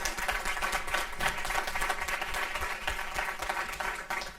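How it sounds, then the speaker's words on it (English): An audience at a school board of education meeting applauds a group of students, a steady, moderately quiet round of clapping from a room full of people that continues evenly for several seconds. "another round of applause for these great students"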